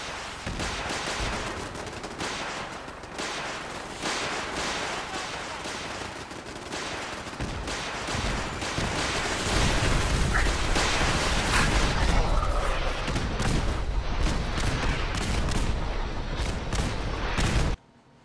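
Sustained gunfire from settlement defenders in Fallout 4, a dense, continuous stream of sharp shots and machine-gun-like bursts that grows heavier in the second half, with little talk.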